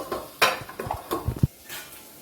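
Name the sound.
crushing onion, green chilli and fennel without water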